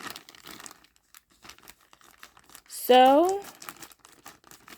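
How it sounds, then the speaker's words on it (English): A colorful package holding a handbag is unwrapped, its packaging crinkling in a burst of close rustles after scattered small handling noises; someone speaks briefly. "Today is an unwrapping video"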